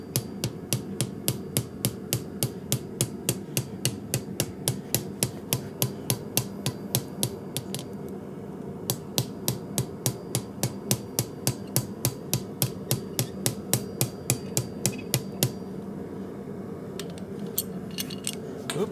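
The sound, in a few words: hammering pipe end to reduce it for forge burner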